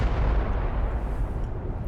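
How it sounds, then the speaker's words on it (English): A huge explosion in Amnesia: Machine For Pigs rumbles as a loud, sustained low boom that slowly fades, heavy and close, with no speech. "Huge explosion."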